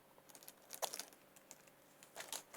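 Plastic parcel packaging being handled and torn open, a faint series of crinkles and small clicks, close by and quiet, with no talk.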